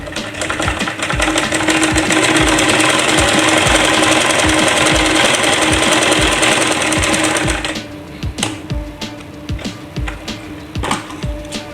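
A sewing machine stitches a salwar in a steady, loud, rapid run for about eight seconds, then slows into short, uneven bursts and clicks.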